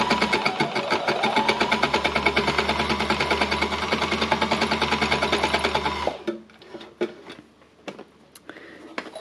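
Baby Lock embellisher machine with its needles set too far down, hammering in a fast, even mechanical rhythm for about six seconds before stopping, followed by scattered clicks and handling knocks.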